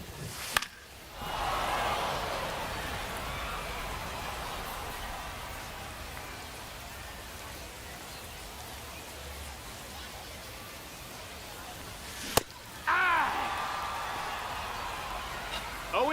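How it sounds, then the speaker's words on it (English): Steady rain hiss in the baseball video game MLB The Show 25, a broad even wash of noise that briefly cuts out and returns near the end, with a few clicks over it. "What the fuck is the deal with all my like sim games being rain?"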